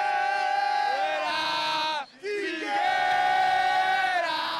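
Figueirense football fans chant in unison outside the stadium, a loud sustained crowd song that dips briefly before swelling again.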